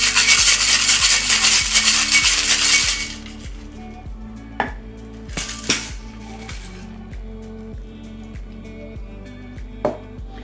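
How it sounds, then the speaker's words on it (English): A cocktail shaking tin packed with ice for a Jamaican Mai Tai is whip shaken in a loud, dense rattling burst for about three seconds. Quieter scattered clinks and taps follow. "Give it a nice little whack and then whip shake for about 5 to 8 seconds."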